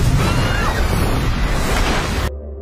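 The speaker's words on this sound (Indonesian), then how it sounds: "tiba-tiba saja sebuah ledakan terjadi yang membuat para penduduk Bahtera panik" A large explosion in a post-apocalyptic TV drama's ark settlement, heard as a sustained loud roaring blast with crackling debris that cuts off abruptly into near silence.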